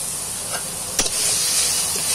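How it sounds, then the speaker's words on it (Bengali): Red amaranth greens frying in a spoonful of oil in a pan, a steady bright sizzle and hiss with a brief stir or clatter midway, close and fairly loud, no voices. "এই লাল শাকটা এখন এভাবে কিছুক্ষণ ভেজে নিতে হবে।"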